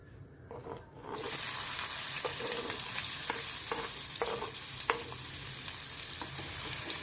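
Cumin and two medium finely chopped onions hit hot oil in a pan, and a loud steady sizzle rises at once and holds, broken by occasional clicks of a stirring spoon.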